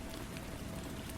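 Steady rain falls without a break, a dense, even hiss that holds at a constant level throughout with no voices.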